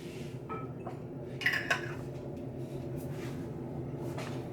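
A metal lid screwed tightly onto a filled glass jar of rhubarb jam, with a few close clinks and scraping twists, a sharper clack in the middle, over a quiet room hum.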